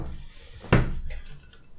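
Aluminium keyboard case parts for a DIY tactical cyberdeck clank together during disassembly, one loud metallic knock followed by a softer ringing rattle, close by with no talking.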